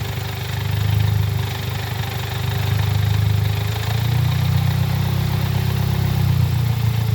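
A car engine runs while a DSG seven-speed gearbox, without its mechatronics unit, spins in first gear, producing a steady, loud low hum with a slight swell partway through.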